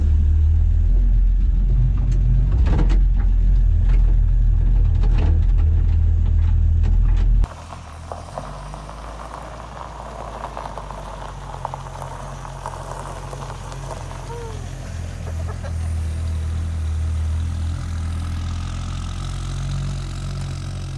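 An old Ford Falcon Ranchero, abandoned for years in a wrecking yard, runs and drives with a loud, steady engine rumble, heavy wind buffeting early on, then a lower continuous drone.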